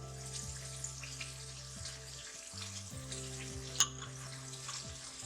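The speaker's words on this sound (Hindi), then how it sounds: "शायद ये ना छींटे मारना शुरू हो गया मसाला। आपने बहुत एहतियात से इसको भूनना है।" A masala of poppy seeds, salt and red chili powder fries in a pan with a faint, steady sizzle, broken by one sharp spluttering pop near the end, and no talking.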